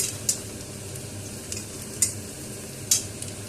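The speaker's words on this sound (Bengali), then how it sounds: "এটা ভালো করে ফ্রাই করে নিতে হবে।" Onions frying in oil in a pan for mixed fried rice, giving a steady low sizzle throughout with a few sharp scraping stir strokes of a utensil.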